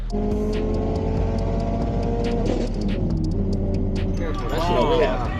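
A 520 whp stock-block Subaru STi accelerates hard during a pass, a loud steady engine drone with rising and falling tones as it shifts gears, with a voice talking over it.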